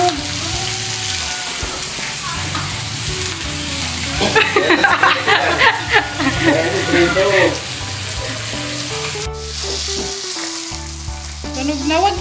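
Food frying in a hot pan with oil, steady loud sizzling and crackling, splattering bursts in the middle, while people talk casually nearby.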